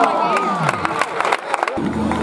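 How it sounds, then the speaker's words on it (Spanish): Crowd noise with applause and cheering at a youth talent competition in Massamagrell, a dense, continuous burst lasting a couple of seconds with a voice over it. "Ese fuerte aplauso."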